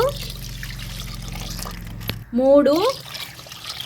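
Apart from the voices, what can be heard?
water being poured into a pot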